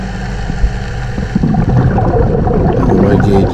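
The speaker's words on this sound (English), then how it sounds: "I can hear my boat, another boat." A low, steady engine drone of a boat heard underwater by a diver, rising slightly as it passes, with faint gurgling.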